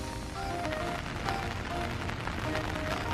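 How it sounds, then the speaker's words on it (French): Heavy rain in Tokyo, a continuous dense hiss of drops hitting surfaces, steady and close, with scattered sharper spatters and faint background hum. "Et il pleut. Beaucoup."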